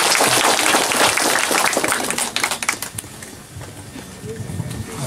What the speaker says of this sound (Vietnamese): Chúng ta cho một tràng pháo tay nhé.